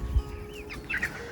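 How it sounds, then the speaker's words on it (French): Roosters kept with chicks and quail on a small poultry farm give soft, short calls and clucks, fairly near over a steady background hum, with no talking. "Donc les coqs ils chantent un petit peu."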